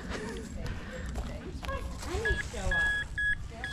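A metal detector sweeping a city park emits a series of short, clear electronic beeps in the second half, repeated several times over faint outdoor background and a brief voice-like sound.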